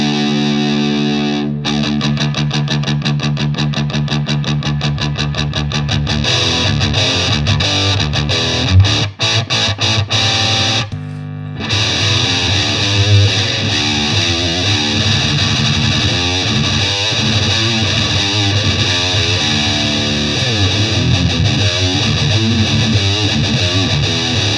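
Heavily distorted electric guitar through a Bogner Überschall Twin Jet amp head, playing loud, sustained chugging riffs and ringing chords with a brief pause midway, no voices.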